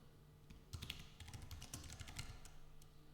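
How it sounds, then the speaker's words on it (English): A name being typed on a computer keyboard, a quiet run of quick, uneven key clicks heard up close with no talk. "simply type in your name in here."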